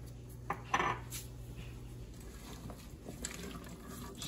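Utensil scrapes and taps against a pan while onions are stirred with salt and smoked paprika, a few sharp knocks early and then faint steady clinks.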